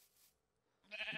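A Minecraft sheep lets out a single short, loud bleat near the end, after a second of near silence with faint background sound.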